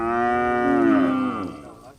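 Cattle in a Fulani herding setting give one long, loud, close moo that swells and then trails off, heard alone with no talk.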